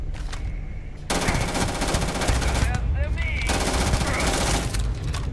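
Rapid machine-gun fire in a sci-fi space shooter video game, long sustained automatic bursts with a brief break, loud and dense, with game effects mixed in.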